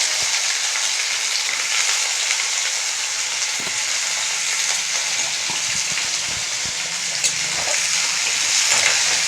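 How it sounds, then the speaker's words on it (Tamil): Small pieces of brinjal sautéing in sesame oil, a steady, loud, close sizzle running without a break, with a few soft stirring knocks underneath. "இந்த நல்லெண்ணெயிலே நல்லா ஒரு அஞ்சு நிமிஷத்துக்கு நல்லா வதக்கி கொடுத்துடணும்"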